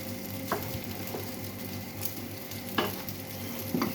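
Risotto being stirred in a pan, a continuous soft sizzle with occasional scraping taps of the spoon, close up and without talk.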